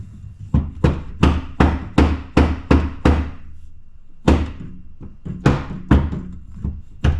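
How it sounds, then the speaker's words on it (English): Hammer tapping on a part of an SN95 Mustang during a teardown, about a dozen loud, close metallic thunks in a quick, uneven rhythm with a short pause midway, with no voices. "let's give it a tickle with a hammer."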